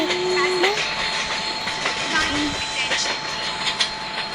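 A train rumbles past in an India train simulator game, with steady rolling noise and clattering, horn-like tones near the start, and a voice talking over it.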